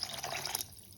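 Water from a measured cup poured into a pot of mushroom biryani, a brief splashing gush that fades out after a moment, close and fairly quiet with no talk.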